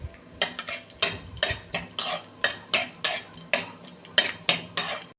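Five-spice tempering and a broken dried red chilli frying in hot oil in a kadai, with loud, rhythmic spatula scrapes and stirs about every half second over a steady sizzle.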